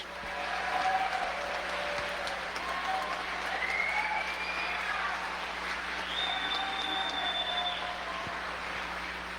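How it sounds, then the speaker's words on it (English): A crowd at a Kansas Highway Patrol graduation ceremony applauds the new class of state troopers, sustained clapping filling a large hall at an even level, with faint tonal sounds drifting underneath. "please join in a round of applause for Class 70, your new Kansas State Troopers"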